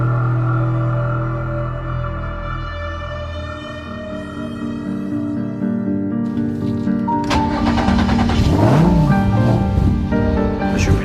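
Renault 5 Twin'Run car on its first run on a circuit, its engine note rising steadily and then swelling into a louder rough roar with changing revs, heard close with no talk.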